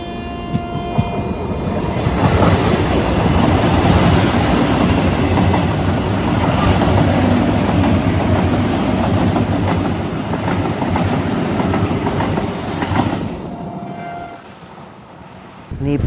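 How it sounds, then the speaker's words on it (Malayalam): A Vande Bharat express of eight coaches passes on the Jolarpettai–Bengaluru line, a loud sustained rumble with clickety-clack of wheels that holds for about thirteen seconds before fading, no talking. "അതുകൊണ്ട് വന്ദേ ഭാരത് വരുന്നുണ്ട്. വന്ദേ ഭാരത് കണ്ട് വേഗം വന്നോളും."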